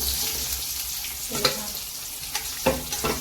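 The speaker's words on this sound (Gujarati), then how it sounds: "આ રીતે આપણે આને હલાવી લઈશું।" Pieces of amla (Indian gooseberry) are stirred in a pan for a pickle, a steady sizzle with a few distinct scraping strokes near the end, with no speech.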